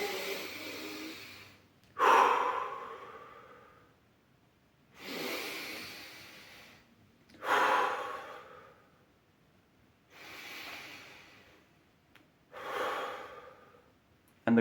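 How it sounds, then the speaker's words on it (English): Slow, deep meditation breaths, drawn in through the nose and released through the mouth, come in five close, distinct cycles with quiet pauses between each airy exhale. "you do deep breaths. You breathe in through your nose, you breathe out through your mouth."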